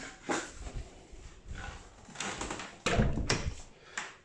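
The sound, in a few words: smart lock unlocking and door opening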